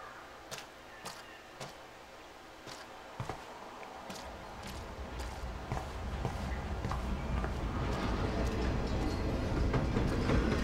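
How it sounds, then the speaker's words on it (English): A train in the video game Life is Strange passes with a low rumble that swells and grows louder over several seconds, preceded by sharp clicking footsteps. "That was a train."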